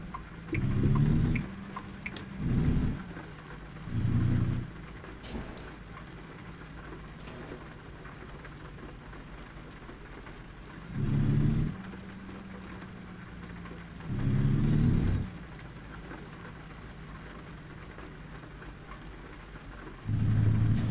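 Steady rain patters through a storm in American Truck Simulator or Euro Truck Simulator 2, a constant hiss broken by several deep thunder rumbles arriving in separate bursts, some near and loud, others softer.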